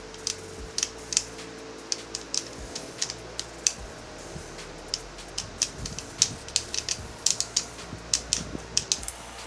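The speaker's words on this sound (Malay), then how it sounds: "Takara punya bunyi klik dia lebih jelas" A rapid series of sharp plastic ratchet clicks from a Takara Beyblade spinning top launcher, close up and fairly loud, coming in uneven bursts with no talking.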